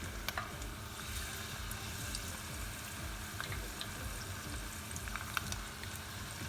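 Battered cauliflower pieces fry in hot oil with a constant close crackle and sizzle, small pops scattered across a steady bubbling hiss.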